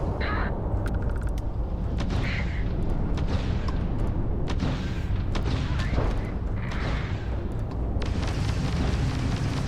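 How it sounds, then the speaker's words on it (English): Rumbling booms and crackling blasts from an asteroid being destroyed in the space game Starfield, loud and continuous across the whole stretch with sharp bursts scattered throughout. "See, you can actually blow up asteroids."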